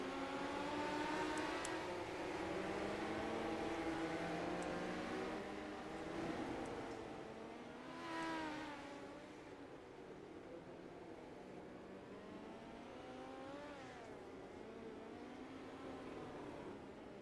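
Midget race cars circle the dirt oval at Cedar Lake under a yellow caution, engines droning steadily at a moderate distance, with faint rising and falling pitch sweeps as cars pass.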